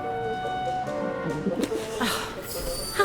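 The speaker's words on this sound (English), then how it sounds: "How am I supposed to get rid of that pigeon?" Pigeon cooing in the video game Syberia: The World Before, several soft, throaty coos in short bursts over a quiet ambient game backdrop with faint tonal music.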